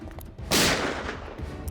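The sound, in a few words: gunshot in a TV crime drama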